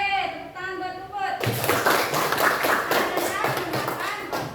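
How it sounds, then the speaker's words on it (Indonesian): A classroom full of students claps for a classmate after a teacher's spoken lead-in, the dense patter of hands starting abruptly and continuing steadily at close range for several seconds. "Tepuk tangan buat Puput."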